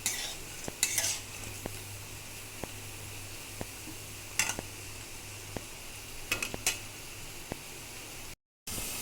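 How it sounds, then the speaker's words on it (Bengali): Lentil fritters (bora) frying in hot oil on high heat while being turned, a soft continuous sizzle with regular light metallic ticks of a utensil against the pan and a few louder scraping stirs, no voices. "এবার আঁচটাকে বাড়িয়ে দিয়েছি, ভালো করে একটু নেড়ে চেড়ে নামিয়ে নেব"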